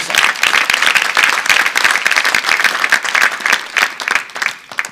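Church congregation claps in praise, a lively, fairly rhythmic burst of many hands beating together, close and steady for about five seconds and tapering at the end.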